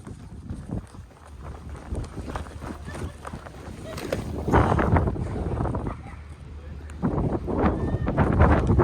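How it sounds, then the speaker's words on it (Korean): Strong wind at the Montjuïc cable car in Barcelona buffets the microphone in rough, rising gusts, growing louder toward the end, with voices faintly mixed in. "우와 바람이 엄청 부데"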